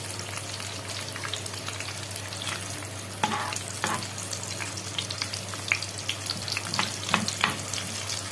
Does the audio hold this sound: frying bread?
yes